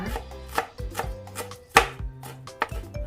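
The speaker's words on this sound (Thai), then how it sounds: "หั่นซอย เป็นชิ้นเล็กๆนะคะ" A knife slices through shallots on a cutting board, crisp close-up strokes in an irregular rhythm, with no talking.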